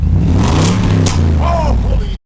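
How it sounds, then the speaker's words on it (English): A BMW car engine revs hard and close, a loud rising roar that holds steady before cutting off abruptly, with voices audible over it. "Can you rev this one?"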